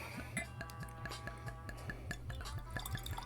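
Reposado tequila poured into a glass, heard as soft, quiet liquid trickles and small drips with faint glassy clinks in a repeating pattern, close and without speech.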